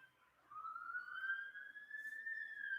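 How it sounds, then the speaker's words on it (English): A police car siren wails through Copenhagen as the cars head toward the city centre, a single clear rising and sustained tone at moderate distance, heard alone without talk. "That's police cars."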